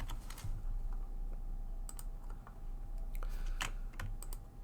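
Typing on a computer keyboard, faint scattered clicks and key taps at an uneven pace over quiet room hum.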